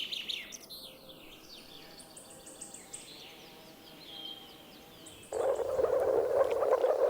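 Moor frogs gathered at a spawning site give a continuous low, bubbling chorus of soft croaks, rising sharply louder partway through, with scattered bird calls and chirps above.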